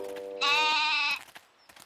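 A single nasal goat bleat rings out close by, lasting under a second, then fades into quiet rustling.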